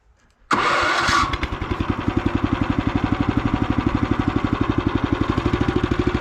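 A walk-behind tractor engine starts with a loud burst, then settles into a steady, rapid single-cylinder chugging that runs close and alone throughout, on a garden plot in winter.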